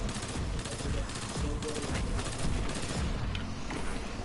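Rapid bursts from the Gravitational Lance pulse rifle in Destiny 2 crackle loudly and continuously alongside other combat fire, a dense rattling barrage with a voice occasionally speaking over it.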